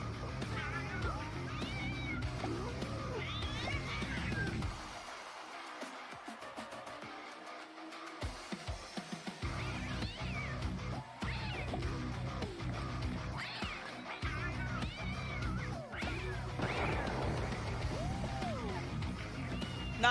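Cats meow repeatedly through a video game about fighting cats, with many short, rising and falling cries scattered over busy game sounds and music.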